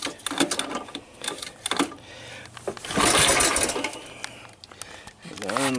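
A 1981 Honda ATC185S three-wheeler is cranked from ice cold, with bursts of mechanical clatter and a longer sustained engine roar in the middle, close and loud, with a person talking in between.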